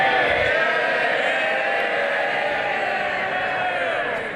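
Members of the House of Commons cheer loudly in the chamber during Prime Minister's Questions, a sustained, dense roar of voices and shouts that holds steady for several seconds before easing slightly at the end.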